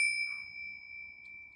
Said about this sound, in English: ooh, bell things.